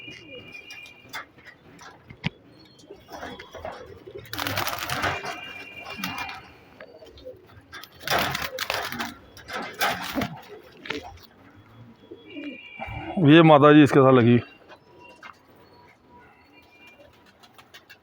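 Pigeons kept by a fancier in Jammu coo softly and intermittently in a quiet setting, with one louder warbling coo near the end, while someone speaks at moments between them.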